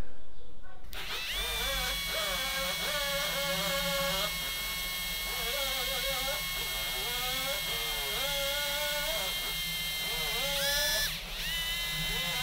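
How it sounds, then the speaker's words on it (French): An electric power drill bores a part while a Solex moped air calibrator is being made, its motor whining steadily with repeated rising and falling pitch as the bit bites and eases, close and continuous. "Je vais y aller à la perceuse."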